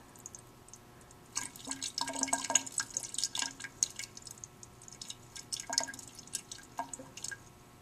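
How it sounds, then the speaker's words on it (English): Liquid is poured from a beaker off copper in a lab, trickling and dripping in small, irregular splashes close by, with quiet pauses between bursts of pouring. "We'll slowly pour out the liquid"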